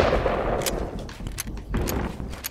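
Gunfire from a shooter video game rattles through as a dense, steady barrage of loud bursts that never lets up.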